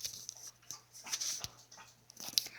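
A dog whimpers and whines in brief, soft high-pitched bursts, fairly quiet and close, with a faint steady hum in the room.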